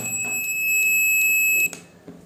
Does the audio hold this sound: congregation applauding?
no